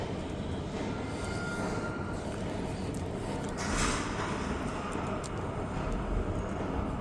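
An REM Deux-Montagnes test train departs Brossard Station, a steady rail rumble and rolling wheel noise at moderate distance with a slight swell partway, continuous and without talk.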